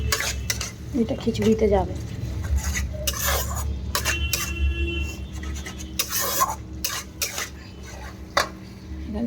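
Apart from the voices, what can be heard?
stirring and frying spices in a pot for khichuri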